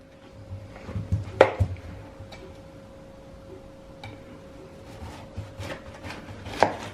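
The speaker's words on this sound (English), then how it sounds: "With the cauliflower, find the root in the middle, turn it over, and you want to cut just either side of that root." Knife slicing down through a raw cauliflower on either side of its central root, giving two or three crisp crunching cuts against a board, close and alone with no talk.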